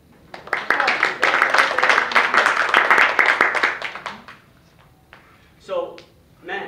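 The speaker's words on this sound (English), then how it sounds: "It's okay to applaud right" Audience applause after a couple's 25th wedding anniversary is announced, dense clapping from a room of listeners lasting about four seconds before fading, followed by someone speaking.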